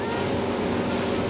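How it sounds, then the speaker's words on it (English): A Reef Runner 23 small high-end boat running up on top of the water at about 30 mph on a calm day, with a steady, loud broadband rush of hull and water noise and no voices. "this boat's made to get up on top of the water and run with not a lot of hull in the water"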